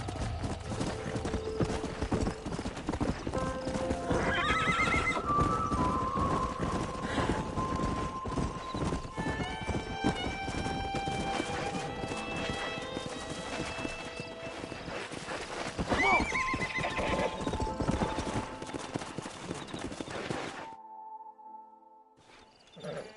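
In Red Dead Redemption, rapid hoofbeats pound steadily under game music, and a horse whinnies loudly a couple of times before the galloping fades near the end.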